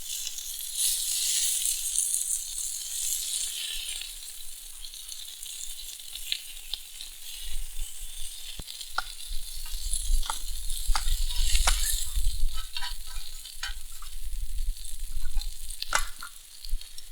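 Food sizzles and crackles in cooking oil over a campfire as it chars, with steady frying hiss, occasional stirring scrapes and pops, and no voices.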